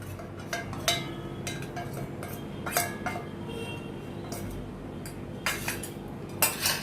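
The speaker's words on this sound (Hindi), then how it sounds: "इनको मैं अच्छी तरह से मिक्स करती हूँ।" A metal spoon scraping and clinking against a bowl while stirring masala into macaroni, intermittent sharp clinks at irregular intervals over a soft continuous stirring rustle, close and alone without talk.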